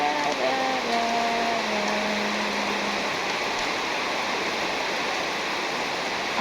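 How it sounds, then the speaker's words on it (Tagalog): Heavy rain pours down on a farm in a steady, dense hiss that fills the whole stretch, with a faint voice briefly underneath early on. "Ala, lumakas ulit yung ulan."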